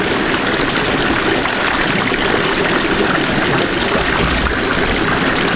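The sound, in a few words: water pouring from mountain spring spouts on Mount Lawu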